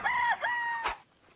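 A rooster crows loudly and close at a chicken coop, one drawn-out cock-a-doodle-doo with a short break in the middle, ending in a brief scratchy burst, with no talk.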